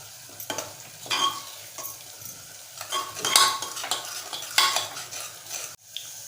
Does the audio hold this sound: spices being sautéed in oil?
yes